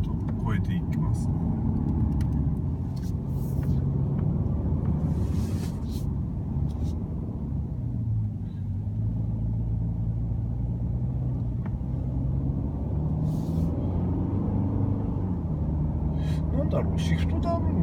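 Mercedes-Benz C220d clean diesel car climbing a slope, a low interior engine drone and road rumble that holds steady with gentle pitch shifts, while a person talks over it.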